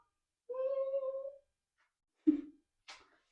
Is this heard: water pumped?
no